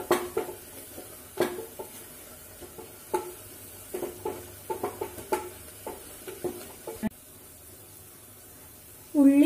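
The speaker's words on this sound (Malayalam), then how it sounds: "ഇതിൻ്റെ പച്ചമണം മാറുന്നത് വരെ നമുക്ക് നന്നായിട്ട് ഒന്ന് ഇളക്കി കൊടുക്കാം." Onions for a corn curry stirred in a pan, with scattered scraping and tapping of the spoon against the metal in irregular bursts, fairly close, over a quiet background.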